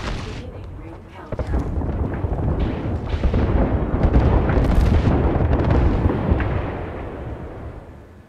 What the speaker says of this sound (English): Attention, airstrike inbound.